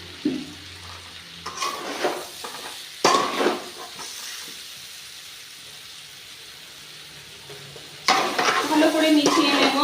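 Soybean chunks tossed into spice masala frying in oil, with bursts of sizzling and spatula scraping at the start, middle and end, and quieter gaps between.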